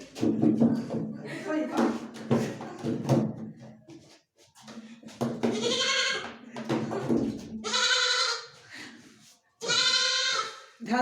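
A goat bleats in several loud, quavering calls in the second half, alternating with people talking nearby and some knocking.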